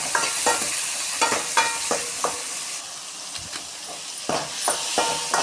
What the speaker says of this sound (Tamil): தக்காளி வதங்கிறதுக்கு போட்டுக்கிறோம்